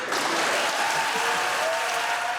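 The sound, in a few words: applause and cheers in the Senate chamber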